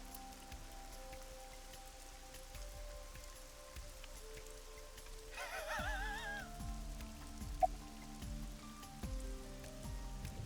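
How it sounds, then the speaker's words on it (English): Steady rain patters on surfaces in a scene from the video game AI: The Somnium Files, a soft, constant hiss that runs the whole time, joined by a brief musical tone and faint, rhythmic game sounds. "I'm sorry, this rain is so loud"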